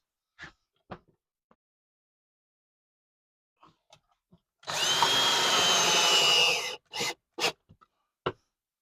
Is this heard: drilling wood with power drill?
yes